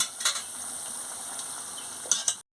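A spoon stirs a poppy-seed curry of pointed gourd, ridge gourd and potato in mustard oil in a pan, making a quiet hiss with a few metallic scrapes and clinks at the start and near the end before sudden silence.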